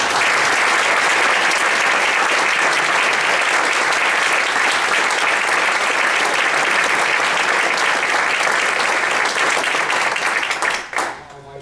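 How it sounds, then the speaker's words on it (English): Sustained audience applause at a space heritage panel event, loud and dense for about eleven seconds before fading out at the end. "please join me in a round of applause"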